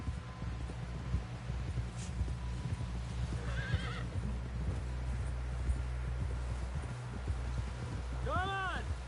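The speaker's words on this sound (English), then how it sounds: "Someone help John down off this horse." A horse in the video game Red Dead Redemption 2 neighs twice, with steady hoof clip-clop over low rumbling background; a voice speaks briefly amid the hooves.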